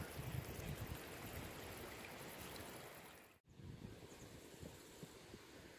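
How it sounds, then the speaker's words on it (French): A small trickle of water running out of nowhere near a stream on a mountain hike by the Saut du Laïre, a soft continuous wash of flowing water, close and steady, with a brief dropout midway. "on a un peu d'eau qui coule"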